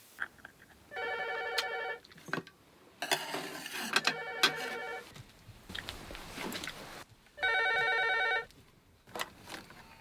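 An old-style telephone bell rings in two distinct bursts in a remote mountain house in Gangwon-do, separated by clattering and rustling household noises, fairly close but not loud.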